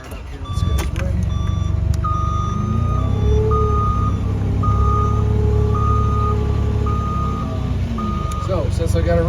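A G2700 HD+ machine idles with a steady low engine rumble while its reversing alarm beeps in a regular repeating pattern throughout, loud and close.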